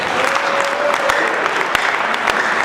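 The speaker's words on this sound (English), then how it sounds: "Can we give Jesus a round of applause?" A church congregation breaks into applause, a dense patter of clapping from many hands that carries on steadily for a few seconds with a faint voice underneath.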